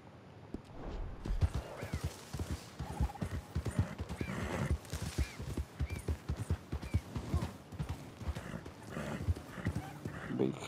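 A horse in Red Dead Redemption 2 gallops in quick, steady hoofbeats and whinnies now and then, fairly close, with a player's voice talking over the game sound throughout.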